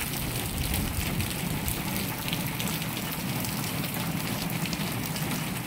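Steady rain falling on a rainy afternoon at an empty function venue, a dense continuous hiss of drops on surfaces, loud and unbroken throughout with no talking.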